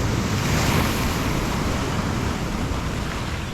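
Sea waves surge and break continuously on the shore at high water, a steady broadband roar with strong wind noise buffeting the microphone, loud and unbroken throughout with no talking.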